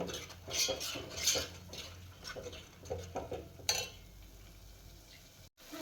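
Onion-garlic masala with Bedgi chilli powder and mutton stirred in hot oil in a pot, with metal spoon scrapes and clinks over a soft steady sizzle, close and moderately loud.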